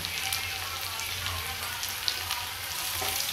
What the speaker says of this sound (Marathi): कांदा लाल परतून झाला की त्याच्यामध्ये थोडं तिखट टाकते